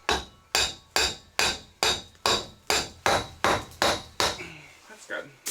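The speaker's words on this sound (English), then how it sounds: "So let's hammer in some pipe." A hammer drives metal pipe about two feet into the ground for a greenhouse, a dozen loud, evenly spaced ringing strikes that soften and slow near the end.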